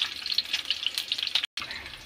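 Green chillies fry in mustard oil with a steady, close crackling sizzle, broken by a brief silent gap near the end.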